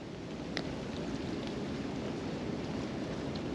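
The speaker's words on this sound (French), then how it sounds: "il y a un vent incroyable" Strong wind blows outdoors during a pike fishing trip, a steady, dense roar of buffeting rumble and hiss across the microphone, constant and close with no talking.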